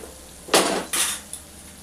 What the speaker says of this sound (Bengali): এবার ঢাকনাটা খুলে দেখে নেব পাঁচ মিনিট পরে